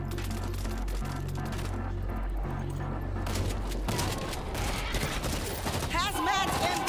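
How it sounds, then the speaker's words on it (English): A .50 cal turret in the video game World War Z fires rapid, dense automatic bursts amid constant loud battle noise, with a voice talking over the gunfire. "Putting down a 50 cal turret. This'll help keep him back."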